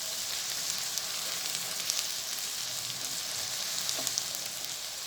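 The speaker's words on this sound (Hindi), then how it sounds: "ये देखें, इसका लहसुन अदरक भी तकरीबन भुन चुका है।" Garlic and ginger fry in desi ghee for a cauliflower and potato dish, giving a dense, continuous close sizzle with scattered crackling pops and no voices.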